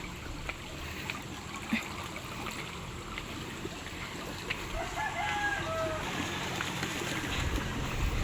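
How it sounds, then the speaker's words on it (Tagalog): Fast-flowing water rushes through a channel beside rice paddies, a constant broad hiss near the listener, with a rooster crowing faintly in the background. "Malakas po ang daloy ng tubig."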